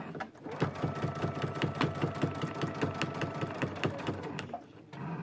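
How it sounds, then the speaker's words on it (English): A sewing machine runs steadily, stitching a seam along the edge of a quilted trivet with a rapid, even mechanical chatter up close, then slows and stops near the end. "I'm going to try to just do a really nice seam right along the edge, right real straight as I can be."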